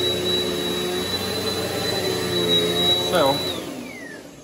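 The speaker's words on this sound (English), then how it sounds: "as you can see, it's actually not too loud either. Our last vacuum was way louder than this." A Eureka PowerSpeed lightweight upright vacuum cleaner runs with a steady motor whine and a high tonal hum, then the pitch drops as it winds down. A person speaks briefly at the start.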